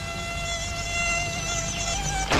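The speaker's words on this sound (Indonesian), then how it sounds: "Ih, itu nyamuk yang ganggu kita." Cartoon mosquito buzzing, a steady close high-pitched whine with wavering pitch, loud and alone, ending in a brief burst of noise.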